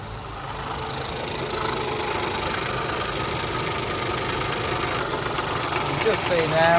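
A Ford Focus 1.0 EcoBoost engine with a collapsed valve, fixed for a P0299 fault, idles steadily throughout, a continuous close mechanical hum with a faint whine near the end.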